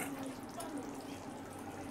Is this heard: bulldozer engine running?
no